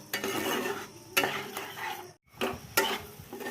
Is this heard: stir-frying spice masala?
yes